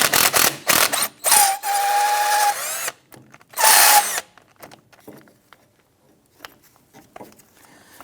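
A power tool zips out the 7mm brake bracket screws on the rear of a 2011-2021 Jeep Grand Cherokee: two short, loud whirring bursts with rising whine, then scattered clicks and metallic handling noises, no talk.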